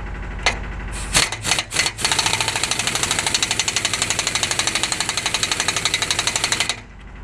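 An impact wrench hammers bolts tight on a farm, a few short bursts followed by a loud, steady rapid rattle for several seconds that cuts off abruptly, close and alone.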